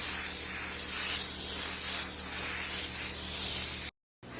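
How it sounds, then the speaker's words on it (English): A steady, loud hiss from an aerosol can sprays continuously for several seconds, then abruptly cuts off. "Alright, I'm spraying this way."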